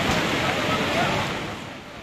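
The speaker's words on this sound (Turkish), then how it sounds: "Hatraş Deresi taştı" Floodwater from the overflowing Hatraş stream surges after a hailstorm and heavy downpour, a loud, steady, broadband roar of rushing water that eases slightly toward the end.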